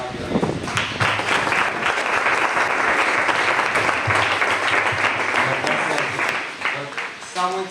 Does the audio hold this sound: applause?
yes